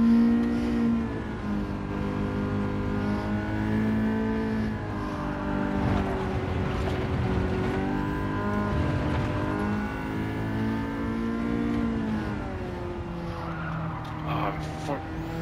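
Ford Sierra Cosworth RS500 lapping the Nurburgring in Gran Turismo 7: a continuous, close engine drone whose revs climb and dip through gear changes, with bursts of tyre squeal.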